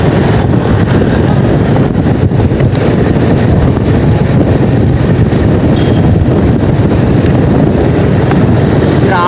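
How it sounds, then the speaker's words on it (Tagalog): Strong wind buffets the microphone at a NAIA Terminal 3 off-ramp, a loud, constant low roar with rumbling gusts throughout and no clear speech. "Grabe ang lakas ng hangin."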